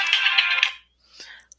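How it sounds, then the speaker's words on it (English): A mobile phone ringtone sounds loudly during a drawing lesson with coloured pencils, a bright melodic burst that cuts off abruptly, followed by a quieter voice. "I forgot to turn the sound down on my phone"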